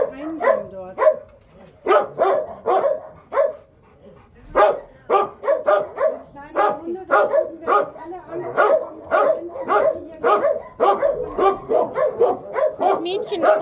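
Puppies bark and yip in quick repeated bursts throughout, close and loud, with a few whimpers mixed in.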